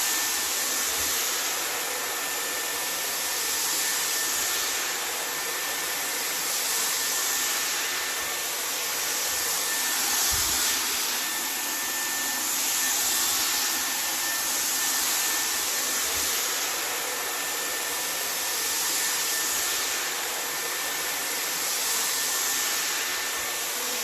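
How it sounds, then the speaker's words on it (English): A handheld hair dryer blows steadily and loudly for the whole stretch while hair is dried from front to back, its broadband rush of air holding constant with a faint whine on top, close to the microphone and with no talking. "I'm going to go ahead and start drying my hair from the front to the back"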